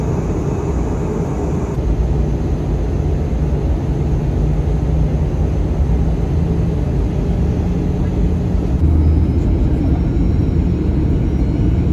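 A passenger airplane lands in Budapest, Hungary, heard as a loud, steady cabin rumble and roar that swells slightly toward the end, with no clear talking.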